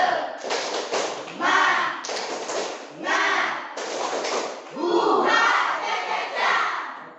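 A classroom of students performing the tepuk semangat rhythmic clapping routine, loud group chanting mixed with bursts of patterned claps, close and lively.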